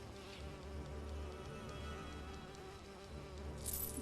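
Bees buzz around a beehive in the Lego Lord of the Rings video game, a faint, steady insect drone with no talking over it.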